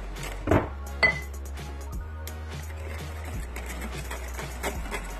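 Mascarpone is folded into a tiramisu cream in a bowl, with a utensil clinking and tapping against the bowl in irregular knocks over soft scraping and a low background hum.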